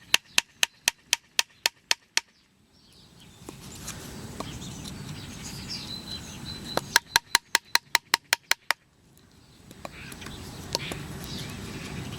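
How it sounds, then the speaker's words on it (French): A log or hammer taps a slightly curved wood chisel to cut mortises for a frame saw: sharp, evenly spaced knocks in two close, loud bursts of about eight strikes each, with quiet outdoor ambience and faint birdsong between. "Tapez à l'aide d'un tronc d'arbre ou d'un marteau votre ciseau à bois"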